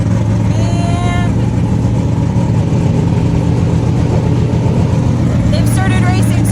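Race cars roaring around the track at the Turkey Bash racing event, a loud continuous engine drone with revving surges that fills the whole stretch, close and dense.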